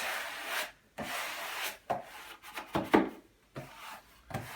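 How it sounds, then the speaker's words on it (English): Repeated rubbing and scraping strokes of a flat board drawn over thermal liner wallpaper on a wall, smoothing it flat, close up, in rhythmic bursts with short pauses between. "I'm just using a corking board here to make sure I've got it nice and flat"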